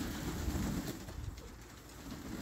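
Pigeons coo softly in a loft at feeding time, low murmuring calls rising and falling over a faint background hiss, with no voices.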